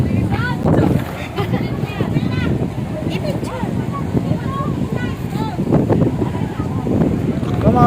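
Strong wind buffets the microphone on a boat trip around a small island off Samal Island, roaring continuously and close, with voices talking beneath the gusts.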